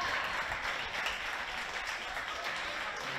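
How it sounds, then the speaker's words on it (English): Applause for a young competitor in a kids' obstacle course qualifier, steady crowd clapping that sounds fairly distant and holds evenly throughout, with no speech. "Big round of applause for Keegan Taylor."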